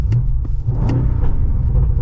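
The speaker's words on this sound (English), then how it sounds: "you get some pops out of that exhaust" A BMW M850i xDrive Gran Coupe in sport mode rumbles deeply from its exhaust. A few sharp crackling pops cut through the low drone, close and loud, with no voices.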